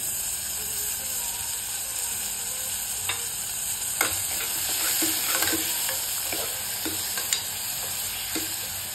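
Tomatoes frying in a pan for masale bhat with white beans, stirred with a spoon: a steady close sizzle with scattered sharp scrapes and clicks of the utensil against the pan, no speech.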